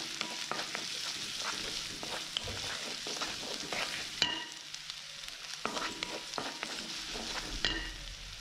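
Chicken and mushroom pie filling with onions being stirred in a hot pan, a steady low sizzle under repeated scraping and tapping strokes of a spoon against the pan, close and unbroken by talk.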